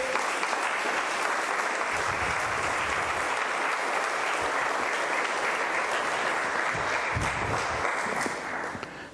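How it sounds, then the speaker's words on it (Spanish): A church congregation applauds loudly and continuously at a Spanish-language service, a thick, sustained roar of many hands clapping that fades slightly at the very end. "Den aplauso al Señor."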